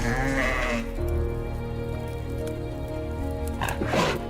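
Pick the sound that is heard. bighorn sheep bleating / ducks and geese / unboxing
bighorn sheep bleating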